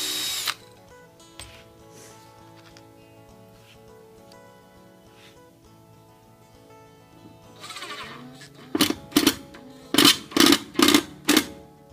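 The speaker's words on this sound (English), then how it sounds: "I can go ahead and drill here" A power drill boring into a safe's hinge area runs in several short, loud, rhythmic bursts near the end, after a quieter stretch of faint mechanical sound.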